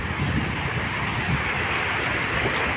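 Surf washing continuously onto Vagator Beach in North Goa, a steady broadband wash with some wind noise across the microphone, near and fairly loud throughout.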